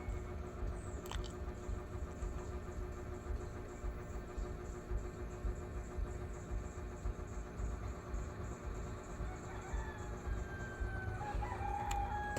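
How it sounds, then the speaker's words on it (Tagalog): A rooster crows in the near distance, a drawn-out call toward the end over a steady, low background hum, with no talk. "Tugtugaok ang manok."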